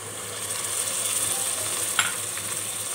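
Ginger and garlic, about two tablespoons and one and a half, added to onions in a pan and frying with a steady, fairly quiet sizzle, plus one small clink near the middle.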